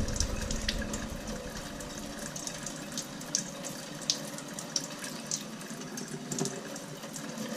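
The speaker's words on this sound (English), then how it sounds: "Look at all the water pouring off the side." Water pours off the side of a Costco rain barrel, a continuous splashing rush with scattered drips and spatters, close and steady throughout.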